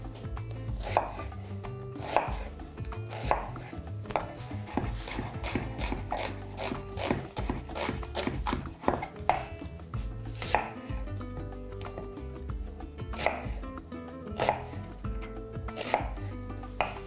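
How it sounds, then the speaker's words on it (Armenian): Small white and red onions being chopped finely with a knife on a board, a steady run of crisp, closely spaced cuts continuing for the whole stretch with no talking. "Կվերցնեմ մեկ փոքր գլուխ սպիտակ սոխ եւ կարմիր սոխ։ Մանր կտրատում"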